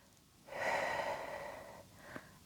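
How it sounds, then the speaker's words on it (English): Deep belly breathing during a Pilates core exercise: one long, soft, airy breath close to the microphone, lasting over a second and then tapering off, with a quiet room behind it. "We're going to introduce a little bit of breathing down"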